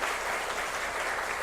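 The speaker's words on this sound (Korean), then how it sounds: "한번 박수하겠습니다." Church congregation clapping during a Sunday worship service to welcome a visiting pastor, a brief, full burst of steady applause from many hands filling the sanctuary.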